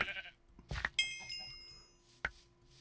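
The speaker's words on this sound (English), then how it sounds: "There's a sheep, I hear you." Sheep in the farming game Coop Life bleat in a few short, close calls, with clicks and quiet gaps between them.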